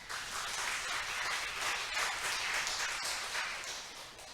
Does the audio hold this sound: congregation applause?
yes